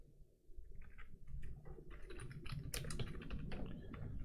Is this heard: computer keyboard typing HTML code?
yes